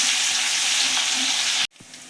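Ginger, garlic and chilli paste sautés in hot oil with a dense, loud sizzle that cuts off abruptly near the end, followed by a softer sizzle and a brief stir.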